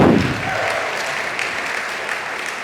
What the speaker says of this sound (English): let's have one more big round of applause for Laura and Dad